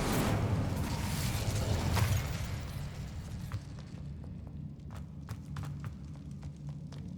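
An Incendio fire spell cast in the game Hogwarts Legacy erupts as a roaring whoosh for about two seconds, then settles into a low rumble scattered with faint crackling clicks.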